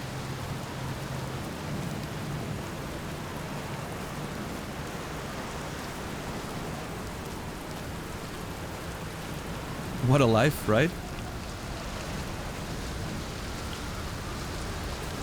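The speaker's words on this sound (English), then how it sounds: "Sound of the rain and the storm all the time." Rain and storm ambience in the Outer Wilds video game, a constant even hiss of rainfall with a low rumble underneath, interrupted once by a brief spoken line.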